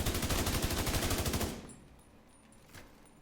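A rapid, steady stream of assault rifle gunfire from The Division 2 video game runs loud and close for about a second and a half, then stops abruptly, leaving a faint, quiet tail.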